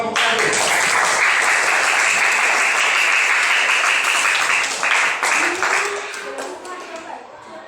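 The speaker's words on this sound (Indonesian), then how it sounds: "Beri tepuk tangan untuk kelompok 1." A classroom of students applauds a presenting group, with steady dense clapping that holds strong and then gradually thins toward the end, a voice faintly audible underneath.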